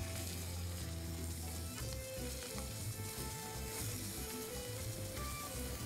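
Garlic frying in oil in a pan, a close, continuous bubbling sizzle with faint crackles, steady throughout and with no talk.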